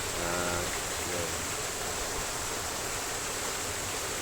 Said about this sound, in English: definitely liking this part of the waterfall up here